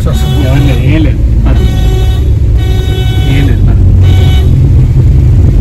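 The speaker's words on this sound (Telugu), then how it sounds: "హార్న్ మాత్రం కంపల్సరీగా కొట్టే వెళ్ళాలి" A car horn sounds in a few short toots over loud, rumbling engine and road noise as the car climbs a steep road to Matheran in monsoon, with a voice speaking through it.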